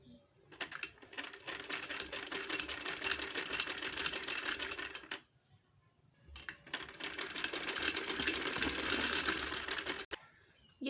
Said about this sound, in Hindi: अब हम इसे एक एक पैर के फासले से सिलाई लगा लेंगे इसकी साइडों पे।